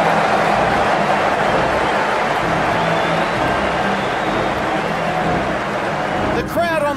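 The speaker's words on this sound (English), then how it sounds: "The crowd on their feet." Steady, loud roar of a stadium crowd cheering at a cricket match in the Ashes Cricket video game, a continuous wash of noise with a brief sharp knock near the end.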